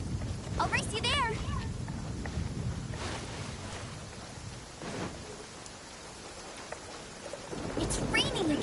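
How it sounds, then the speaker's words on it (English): Steady rain with rumbling thunder in the video game Genshin Impact fills the scene, a dense wash of sound with a few brief voice-like calls near the start and end. "It's raining again. This will hinder our vision."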